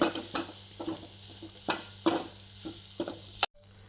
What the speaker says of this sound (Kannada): ಚೆನ್ನಾಗಿ ಫ್ರೈ ಆಗ್ತಾ ಉಂಟು ಮೊಟ್ಟೆ